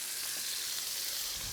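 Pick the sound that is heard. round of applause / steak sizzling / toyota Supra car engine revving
steak sizzling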